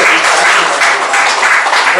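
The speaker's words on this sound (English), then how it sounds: "You clap to the Lord God Almighty." A church congregation claps during a weekly prayer service, a dense, steady wash of hand claps filling the room with voices mixed in.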